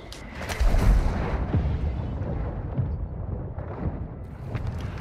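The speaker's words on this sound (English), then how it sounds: "Mortar strike inbound now." Mortar strike explosions in Call of Duty: Modern Warfare II land as a heavy, rumbling burst of low booms, loudest early on, then fade into a continuous rolling roar of debris and distant impacts.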